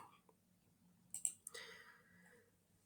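A few quick computer mouse clicks sound close and faint against quiet room tone, while working in a spreadsheet.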